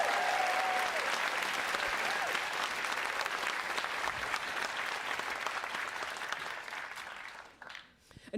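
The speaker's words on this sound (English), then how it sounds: "Can you give them a round of applause for all their hard work?" A large audience at the 2024 MIT Mystery Hunt closing ceremony claps in a sustained, dense round of applause that fades out over several seconds.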